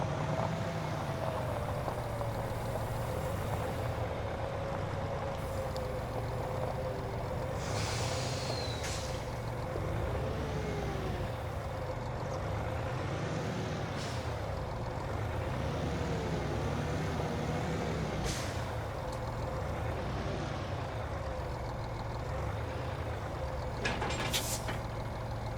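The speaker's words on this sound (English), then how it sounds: "never pump the brakes like that on air brakes because you dump all your air" A truck's air brakes in Farming Simulator 25 sound over a steady, droning engine rumble, with brief hissing bursts of released air near the middle and again near the end.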